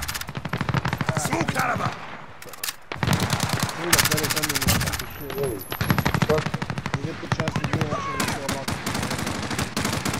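Rapid automatic gunfire in a co-op shooter game, loud bursts of machine-gun fire repeating with short pauses while players talk over the shooting.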